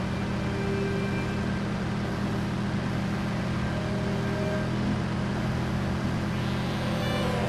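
A car engine in Watch Dogs drones steadily while cruising, a continuous low hum with broadband road rush at constant level and no voices.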